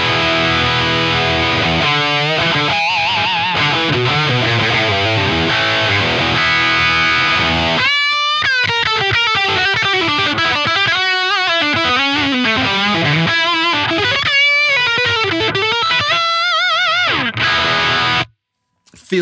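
A clean electric guitar plays through an amp with no effects in front, first sustained chords, then a run of single-note melodic lines, fairly loud, ending abruptly.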